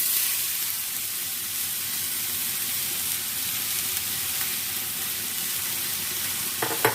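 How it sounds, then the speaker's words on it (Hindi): Grated potatoes hit hot oil in a frying pan, giving a continuous loud hiss of sizzling with faint stirring and a couple of small clinks at the end. "ऑयल में हम कद्दूकश किए हुए आलू ऐड कर देते हैं"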